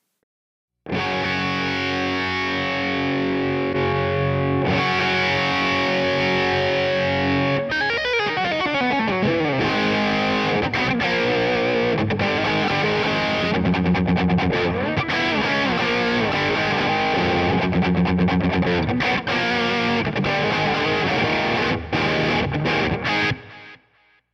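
Heavily distorted electric guitar through a Radial Tonebone Trimode pedal plays chords and riffs with a thick, boosted gain tone, loud and continuous with a few sliding notes.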